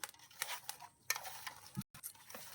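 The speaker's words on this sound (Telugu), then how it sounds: "ఇప్పుడు బాగా కలుపుకుందాం." A spoon scrapes and clicks through sesame paste made from fried, ground sesame seeds in a pan, quiet irregular stirring strokes with soft taps.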